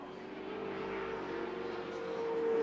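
Touring cars racing at Wanneroo Raceway in 1983, a faint distant engine drone with a steady tone that swells slightly toward the end, no talk.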